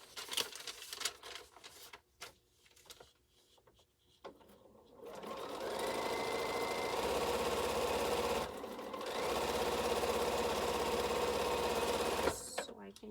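A sewing machine stitches string quilt blocks, running in a long steady whir from about six seconds with a short pause near eight and a half, close by; before it starts come scattered handling noises and a little talk.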